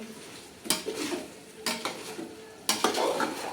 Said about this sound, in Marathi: गार असं मस्त हलवून घ्यायचं